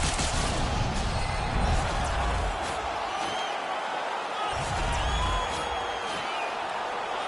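A hockey arena crowd in NHL 21 keeps up a steady, dense roar after a fight on the ice, with a few louder swells rising out of the continuous wash of noise.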